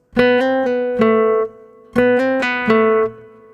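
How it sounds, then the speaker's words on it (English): Two quick phrases of plucked guitar notes played as hammer-ons and pull-offs, each a short legato run of connected notes sounding without fresh picks, ringing clearly with a pause between. "So that is the hammer-on, pull-off sound."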